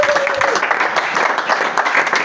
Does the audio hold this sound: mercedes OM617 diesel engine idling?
no